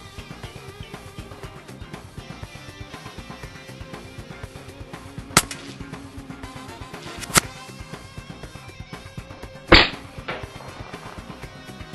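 A Daystate Huntsman air rifle is fired at a target, with three sharp, brief cracks spaced a few seconds apart over a low, steady background; the last shot is the loudest.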